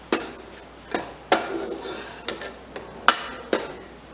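A spoon stirs coriander panjiri roasting in ghee in a pan over a high flame, striking it in about eight sharp, uneven clinks and scrapes, close and clear.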